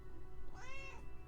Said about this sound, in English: Come on, give me one more meow.